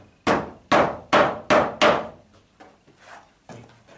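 A nail driven by hammer to fix a roof vent unit among roof tiles: five loud, sharp, evenly spaced blows close by, then several softer taps and a final firmer knock.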